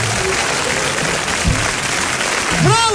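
Steady applause from a studio audience on a Turkish chat show, a dense even wash of clapping with a voice speaking over it near the end.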